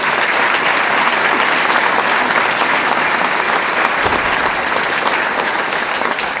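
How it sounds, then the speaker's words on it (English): Audience at a city mayor's State of the City address breaking into sustained applause, a dense, loud, even wash of many hands clapping with no pause. "So if we can give them a round of applause, just in case they're watching."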